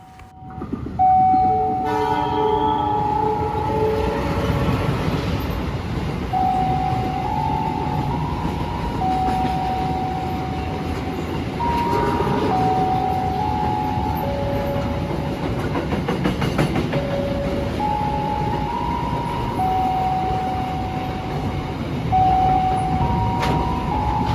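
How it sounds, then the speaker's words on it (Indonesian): A container freight train passes through Cikampek station in Indonesia, its horn sounding in repeated long tonal blasts over a continuous loud rumble and rattle of wagons rolling by close. "kita akan melihat momen kereta api kontainer ya"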